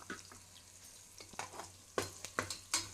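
Onions fry in oil for mutton biryani, a quiet sizzle broken by sharp, close scraping strokes of a spatula that come faster toward the end.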